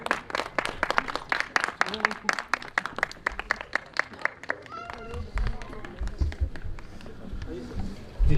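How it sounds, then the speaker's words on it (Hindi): Audience applause at a cultural event of a music and dance academy during a lamp-lighting ceremony, dense clapping in the first few seconds that thins out into scattered claps and low crowd noise. "तो एक बार जोरदार तालियों के बीच"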